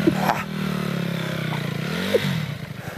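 A poorly running dirt bike engine revs and strains as it climbs a steep, rocky Colorado hill, giving a close, continuous, wavering drone with a clattering scrape.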